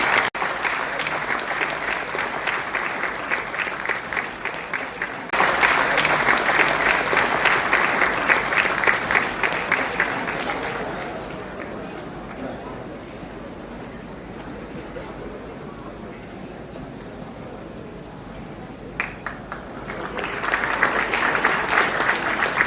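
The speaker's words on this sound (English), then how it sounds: "A round of applause. Keep your applause going." Sustained audience applause at a Toastmasters club's 100th milestone meeting, dense rapid clapping from a large room that swells, dips to a quieter patter midway, then builds again.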